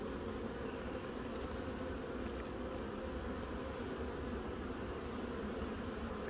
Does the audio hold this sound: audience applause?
no